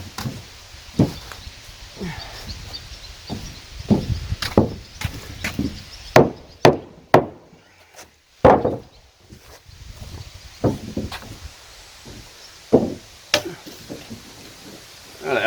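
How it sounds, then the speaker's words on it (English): Hammering nails through wooden floor studs on a cabin build: a run of sharp, close wooden strikes in irregular clusters, some rapid and some spaced apart, with no talking. "I just nail it through."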